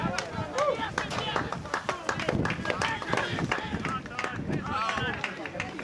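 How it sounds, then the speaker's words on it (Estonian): A home football crowd at an FC Kuressaare league match applauds a substituted player with dense, steady clapping that lasts throughout, mixed with crowd noise and an announcer's voice. "nii et Urmasele aplaus"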